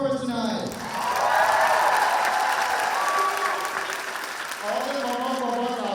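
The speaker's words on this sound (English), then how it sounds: "Can I get a round of applause for our girls' great performance tonight?" An audience at a university Persian student association show claps after a performance, broad applause swelling and holding under a speaker's amplified voice at the start and end.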